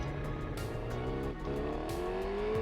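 A superbike engine in the racing game TT Isle of Man 3 drones and revs steadily, its pitch climbing toward the end, over a continuous game soundscape with no talk.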